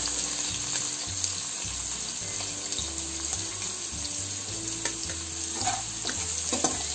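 Ground pepper and cumin powder frying in a pan for a Cuddalore-style spicy fish curry, a steady close sizzle with stirring scrapes and a low pulsing hum underneath, no talking.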